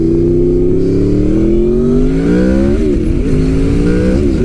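A 2006 Honda VFR800 motorcycle accelerates hard on a test ride, its engine note climbing steadily in pitch through the gears with a brief shift dip, loud and close with no talking.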